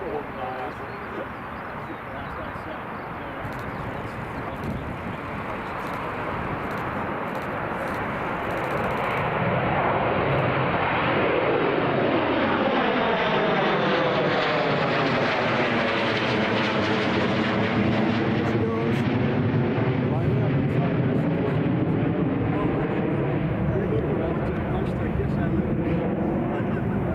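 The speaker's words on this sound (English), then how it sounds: "First Emirates A350 heading off to Dubai Newcastle." Emirates Airbus A350 jet taking off at Newcastle International Airport, its engine roar growing from a distant rumble to a loud, sweeping pass that lingers as a sustained roar.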